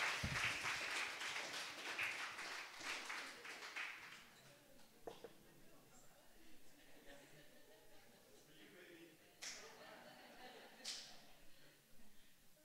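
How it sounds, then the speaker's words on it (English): A church congregation at a Sunday service applauds loudly at first, then the clapping thins into scattered claps and fades, with faint voices underneath. "Give yourselves a round of applause."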